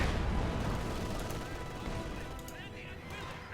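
Artillery barrage in Company of Heroes 2, steady low rumbling impacts and scattered gunfire under a battlefield wash, with a voice talking over it.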